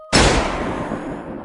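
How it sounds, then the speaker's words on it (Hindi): A single loud gunshot cracks sharply and then rumbles away in a long decaying echo. "तभी गोली चलने की आवाज आती है"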